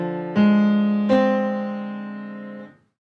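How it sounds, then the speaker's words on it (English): A half diminished chord rings out, struck twice in quick succession and then left to sustain and fade before cutting off, clear and alone. "So that's the sound of a half diminished chord."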